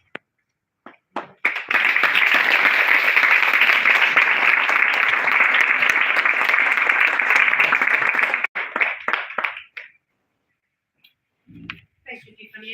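Big audience applause after a lawyers' panel on microaggressions: a loud, sustained roar of dense clapping lasting several seconds, tapering into scattered claps, then a brief voice.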